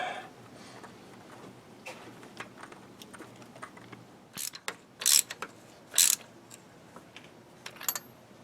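Metal accessory vacuum port fitting being screwed down in the engine bay of a 1978 Mercury Marquis, a run of quiet ratcheting clicks building to a few louder, sharper bursts near the end.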